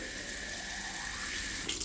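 Tap water runs from a faucet into a football and rugby boot cleaner device at a sink, a steady continuous rushing stream heard up close, with a slight change in tone as the container fills at the end.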